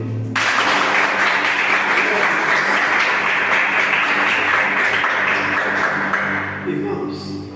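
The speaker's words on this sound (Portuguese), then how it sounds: "Você pode aplaudir?" A congregation at a church men's gathering breaks into sustained, loud applause, a dense wash of clapping that holds steady for several seconds before tapering off.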